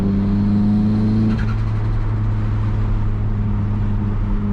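Loud, close car engine droning steadily, with a turbo-like whistle and flutter rising briefly as the revs change.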